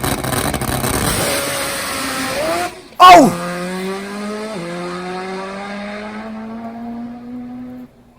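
A top fuel nitro drag motorcycle screams at full throttle, then gives a sudden loud bang as the engine blows, followed by a lingering tonal whine that fades out. A man briefly exclaims.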